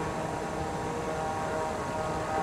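A propeller airplane's engine drones steadily in Microsoft Flight Simulator as the aircraft slows, a constant loud hum with no talking.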